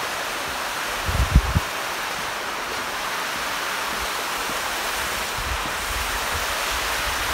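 A waterfall on a hillside near Pyongyang, North Korea, makes a steady broadband rush of falling water with some wind noise, constant throughout, and a brief bump near the start.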